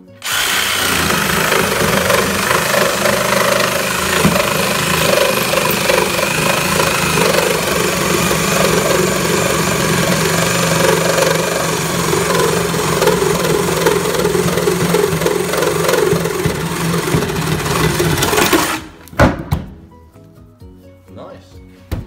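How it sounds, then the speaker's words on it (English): Bosch 18V cordless sabre saw cutting off an excess piece, a loud, close, continuous buzzing motor with rattling blade strokes for about nineteen seconds, then cutting out abruptly, leaving a few clunks and quiet. "Just got a bit to chop off from over here, excess."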